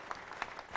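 Brief applause from an entrepreneur town hall audience in Ghana, a soft, distant patter of clapping with a few sharper claps standing out.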